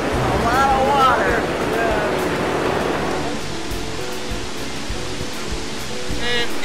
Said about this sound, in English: About half the river's flow falls into a long and narrow chasm called the Devil's Throat.